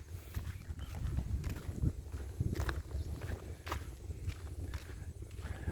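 Footsteps walk toward a speaker cabinet factory, with a steady series of scuffing steps close by on a hard outdoor surface and no talking.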